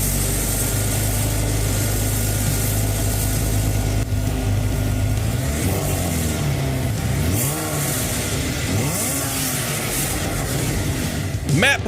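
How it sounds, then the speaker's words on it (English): Porsche 911 engine idling with a deep steady drone, then revving in several rising and falling sweeps, close and loud. "Porsche 911. Gotta love it there. Send those car sounds in."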